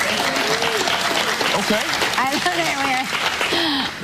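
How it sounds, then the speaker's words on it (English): Studio audience on a live talk show clapping in a steady, full burst while hosts talk and laugh over it. "I love that we just applauded that Oprah's not getting married."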